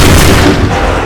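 A musket volley fired on command in Assassin's Creed 3, heard as a loud, dense burst of overlapping gunfire with a booming low rumble that fills the moment, with no talk over it.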